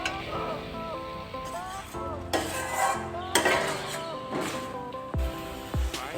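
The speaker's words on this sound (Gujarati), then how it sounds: "ખોડનું પાણી બળી ના રહે ત્યાં સુધી આપણે હલાવી દઈશું." A spoon stirs carrot halwa with 200 to 250 grams of sugar in a pan, making repeated scraping and soft clinking sounds over background music, ending with two dull knocks.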